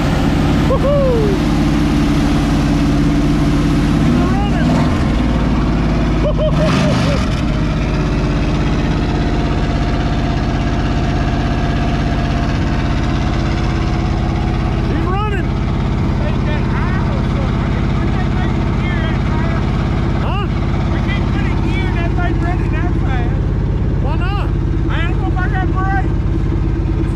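Engine of a 1979 Chevrolet C10 pickup truck running steadily at a loud, rough idle, close by throughout, with people talking and cheering over it.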